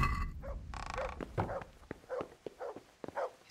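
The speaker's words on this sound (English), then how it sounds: "Stop barking." A dog barks and yips in the medieval video game Kingdom Come Deliverance, several short barks and growly bursts in an irregular rhythm, moderately close with no speech.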